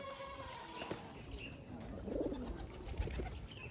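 Soft pigeon cooing rises faintly amid ambient outdoor noise, with a brief murmuring coo in the middle.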